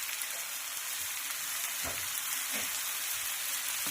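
Finely chopped green chillies frying in a pan for street-style egg bhurji, heard as a dense continuous sizzle close by with a couple of brief clatters partway through.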